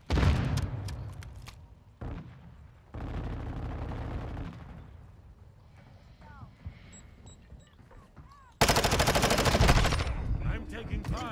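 Bursts of Call of Duty gunfire, rapid automatic shots in loud clusters with short gaps, a heavy final volley near the end, mixed with in-game radio voice callouts.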